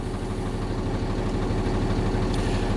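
A Class B truck's engine idling during a parking brake test, a loud, steady low rumble with rhythmic throbbing pulses, close by and unbroken, no talk.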